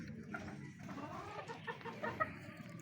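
Farm chickens kept for cockfighting cluck steadily at feeding time, a busy flock of soft overlapping clucks with a few sharper calls, fairly close and moderately loud with no talking.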